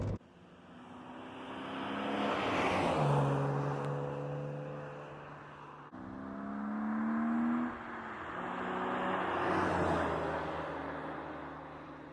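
A 1997 BMW M3 E36 on its stock exhaust drives past outdoors, the engine note swelling as it approaches, peaking, then fading before a second pass builds and recedes, with a rising and falling tone and no voices.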